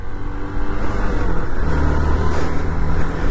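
Hero XPulse Pro Rally 200 4V motorcycle riding off-road, its engine droning steadily and close with small rises in revs, no talking.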